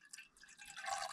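Water pours into a cooking pot at a snowy winter campsite in the mountains, a short close splashing fill that grows brighter and louder as the stream settles.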